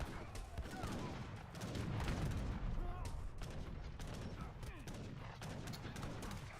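Dense cannon and culverine barrages from Imperial artillery in a real-time strategy game battle, many overlapping booms and cracks rolling on steadily with brief voices now and then.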